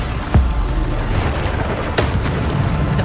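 A Bombarda spell bursts in Hogwarts Legacy, a single deep boom near the start followed by a second blast about two seconds later, both over a steady rumbling game soundscape.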